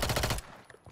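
Rapid automatic gunfire from a meta gun in an online shooter game, a loud dense burst of shots lasting under half a second before cutting off to quiet.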